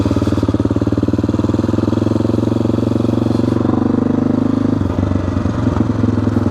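An AJP PR7 600 motorcycle engine pulling steadily while riding, a loud close rhythmic thumping drone that dips briefly near the end and then picks back up.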